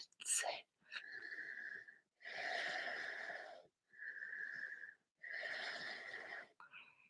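Slow, deep yoga breaths taken while holding an inversion, with long hissing inhales and exhales alternating in a steady rhythm and brief silences between them, close and fairly quiet.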